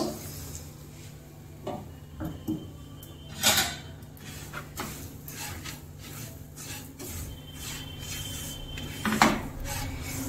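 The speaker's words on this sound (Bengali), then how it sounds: "দিয়ে সুজিটাকে ভালো করে একটু ভেজে নেব 5-7 মিনিট সময় ধরে" Semolina stirring and frying in a pan over a low flame, a steady scraping and rubbing with occasional louder scrapes over a soft continuous hum, close and fairly quiet, no talking.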